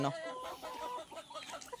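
Hens cluck softly in a coop, a series of short, quiet, close clucks and murmurs over about two seconds.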